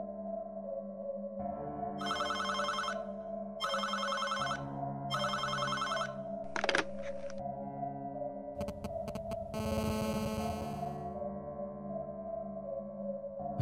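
A telephone at a closed military guard post rings in three short bursts of bell-like tones over a steady low electronic hum, followed by a brief crackle and a hiss of static, all fairly faint.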